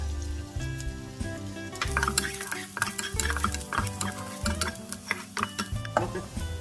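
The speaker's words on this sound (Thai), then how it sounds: "แล้วก็จะใส่น้ำมันหนึ่งช้อนโต๊ะ แล้วก็เจียวกระเทียมให้เหลืองนะคะ" Garlic fries in a tablespoon of oil for a Thai stir-fry of long beans with pork belly, crackling under a spatula that stirs and scrapes the pan in uneven strokes, with a low hum running beneath and no talking.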